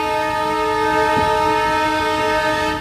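A passenger train departs Pantnagar station in India, sounding a sustained loud multi-tone horn over a rumbling engine and wheels for nearly three seconds.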